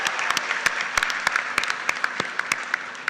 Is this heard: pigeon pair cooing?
no